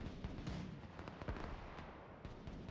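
A launcher fires in a Broken Arrow-style modern war strategy game, producing a rapid string of booming, crackling blasts and impacts that overlap into a dense, continuous barrage with no voices.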